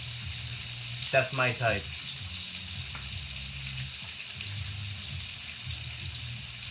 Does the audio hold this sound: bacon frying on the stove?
yes